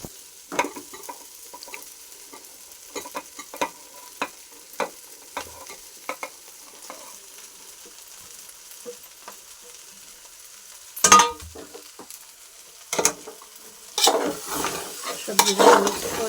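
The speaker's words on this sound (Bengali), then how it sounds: "দেখুন চাউলটা এরকমভাবে ভেজে নিতে হবে। চাউলটা ভাজা হয়ে গেছে। এবার আমি সব সবজিগুলো মিক্স করে" Rice and mixed winter vegetables sizzle softly in a pan for pilau with meat, with repeated spoon scrapes and stirring strokes and a few louder clatters near the end.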